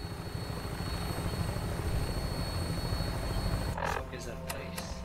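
Continuous rotor and engine drone of a Vertibird aircraft in flight in the video game Fallout 4, steady and loud, with a voice talking over it near the end.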